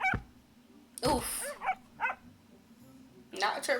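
A dog in a Minecraft roleplay series barks and whimpers in short yips and bursts spread across the moment, mixed with people reacting and talking.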